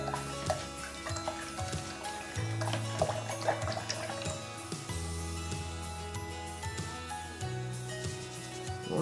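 Paintbrush rinsed out in water, with swishing and splashing against a container, irregular sloshes of moderate loudness, close by.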